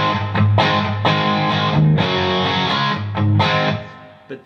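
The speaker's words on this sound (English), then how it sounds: "Bit of reverb to give it a little bit of life." Crunchy overdriven electric guitar through a Digidesign Eleven Rack modelling a Marshall Bluesbreaker amp strums chords in a loose rhythm, with a touch of reverb adding a soft tail to each stroke.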